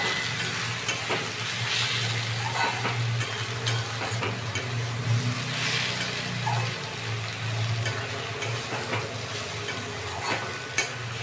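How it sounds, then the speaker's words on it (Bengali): Turmeric frying in hot oil in a pan while cooking rohu fish head muri ghonto with gobindobhog rice, a steady broadband sizzle with occasional stirring scrapes, close and continuous, with no talking. "দিয়ে এবার আমি ভালো করে ভেজে নেব।"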